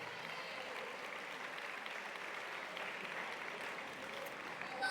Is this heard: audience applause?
yes